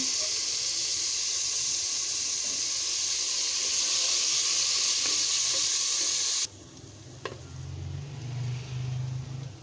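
Onions hitting hot oil for a salted hilsa curry, a loud dense sizzle for several seconds that cuts off abruptly to quieter low clatter and stirring.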